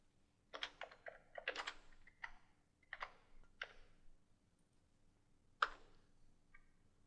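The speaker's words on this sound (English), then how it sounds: "and then we'll type the following" Code being typed on a computer keyboard, quiet short clusters of key clicks separated by pauses, then a final single tap, close and soft with no voices.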